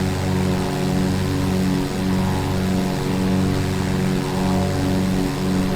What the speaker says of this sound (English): we're in one of my favorite planes, a Flightsimware Beechcraft Sierra